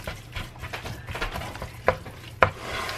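Ground beef with garlic browns in a pan, a close crackling sizzle with low rumbling frying and a couple of sharp spatula knocks toward the end, no speech.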